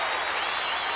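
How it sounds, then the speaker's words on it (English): A standing ovation at Camp Randall Stadium after a drum corps show: a steady, dense roar of clapping and crowd noise, loud and unbroken for a moment. "Santa Clara Vanguard gets a standing ovation from the crowd here live at Camp Randall Stadium"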